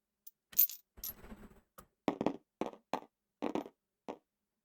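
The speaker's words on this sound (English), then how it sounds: "Let's roll the damage dice." Dice tumble and clatter across a surface during a tabletop space-combat game, with a short burst followed by several distinct rattling impacts spaced about half a second apart, close and fairly quiet.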